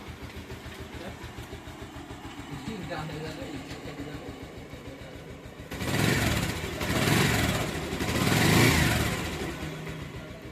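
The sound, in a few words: Bajaj Pulsar motorcycle engine running after timing adjuster repair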